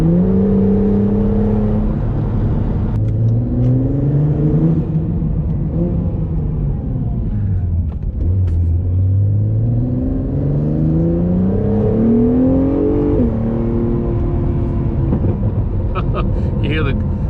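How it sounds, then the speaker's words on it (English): Acura NSX driving with a steady engine drone that rises and falls through the gears, its exhaust giving off snaps, crackles and pops, heard from inside the car under continuous talk. "You hear the snap, crackle, pops, as I call it, from the exhaust."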